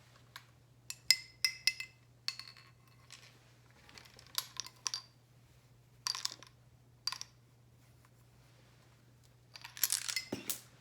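A clarinet cleaning swab, a string weighted with a small screw, drops onto the floor, giving a scatter of light, sharp metallic clicks and taps in several quick clusters against a quiet background hum.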